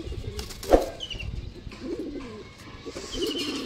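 Dobaj pigeons, including a male, coo softly in a loft, with a brief burst of wing flapping near the start and low murmuring calls continuing underneath.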